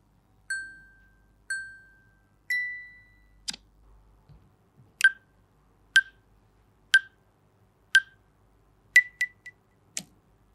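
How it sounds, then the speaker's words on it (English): A Google Pixel camera's astrophotography-mode timer plays three clean, ringing electronic beeps. A rising tone follows, then a run of crisp, evenly spaced ticks about once per second, all alone in near silence. "The first change is in the timer sound."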